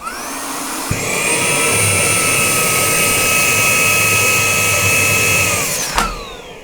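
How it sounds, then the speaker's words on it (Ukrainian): A Karcher CVH 2 Premium portable car vacuum cleaner switches on with a click, whines at a loud steady high pitch for about five seconds, then spins down after a second click. "вагу в 200 грамів цей пилосос може спокійно утримувати за рахунок сили всмоктування"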